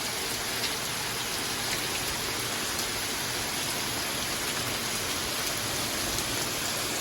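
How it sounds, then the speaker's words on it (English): Heavy rain falls on a Texas street during a flash flood, a dense, steady wash of hiss with no breaks, heard close and alone. "The rain just started like 5 minutes ago."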